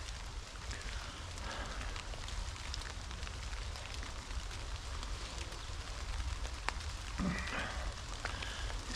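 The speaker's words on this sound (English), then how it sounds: "The rain's come." Rain falling in woodland at a camping spot: a faint, steady patter and hiss of drops on leaves and surfaces, continuous and even throughout, with no talk.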